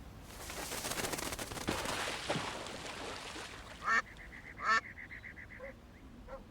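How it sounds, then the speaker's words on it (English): Ducks quack in the Paris point-and-click game Secret Files 2: Puritas Cordis, two loud nasal bursts following a stretch of rushing noise, then fainter calls trailing off. "That's a silly sound. It's the sound of a duck."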